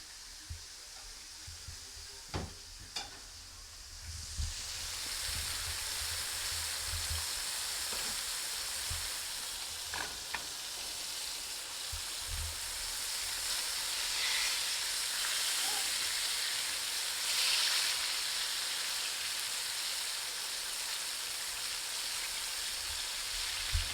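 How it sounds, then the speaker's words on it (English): Bluegill fish frying in hot oil, a steady broadband sizzle that starts after a few seconds of quieter clatter and holds loud and continuous to the end, with faint speech-like sounds early on. "So fry this little bunch."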